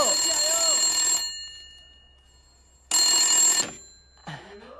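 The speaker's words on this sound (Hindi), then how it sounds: "तेरा फोन किसका है मुनीम जी?" Two loud bursts of a ringing telephone bell, each lasting over a second with a pause between, followed by a short bit of speech.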